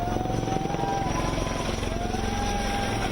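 Army helicopter flying over a city, a steady rotor and engine drone holding at moderate level throughout, continuous and without voices.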